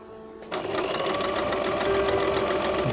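A sewing machine runs steadily, stitching zigzag patterns on plain fabric, its fast even whir starting after a brief pause and holding loud and close throughout.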